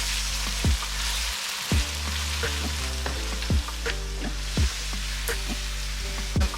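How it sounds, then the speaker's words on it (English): Curry powder sizzles steadily in hot oil in a pan while making a jollof rice sauce, with a spoon repeatedly scraping and stirring through it in irregular knocks and scrapes. "I'm adding my curry powder. Then stir it together and leave it for 2 minutes"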